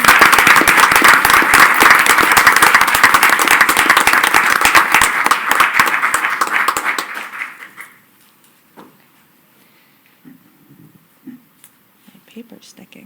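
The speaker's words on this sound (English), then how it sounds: "Can we all give these teachers a round of applause?" Board of education meeting audience applauding to honor elementary school teachers, loud dense clapping for about seven seconds before it stops abruptly, leaving a quiet room with faint rustling.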